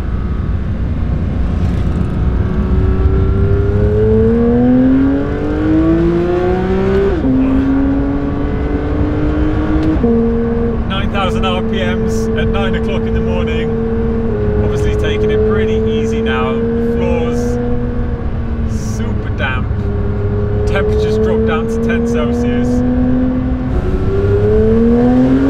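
A Porsche 911 GT3 of the 992 generation drives over the Grimsel mountain pass in bad weather, its engine droning loud and close, rising and falling in pitch through gear changes while a voice talks over it at times.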